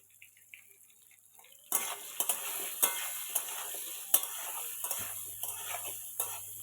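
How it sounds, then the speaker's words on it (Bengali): Small pieces of potato fried in hot oil in a pan: a quiet start, then a sudden loud sizzle with repeated scraping stirs and clinks over a continuous hiss. "এই আলুগুলো গরম তেলের মধ্যে দিয়ে ভেজে নেব।"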